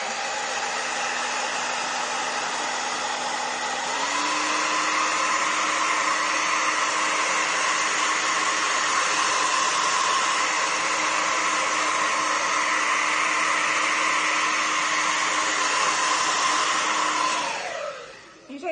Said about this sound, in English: if I blast that with a hairdryer, which I will, it will crack even more